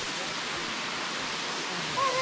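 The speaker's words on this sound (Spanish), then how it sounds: "Sí, ya la tercera cascada" A Caribbean Colombian waterfall roars as a broad, steady rush of falling water, continuous and fairly close, with no break across the short stretch.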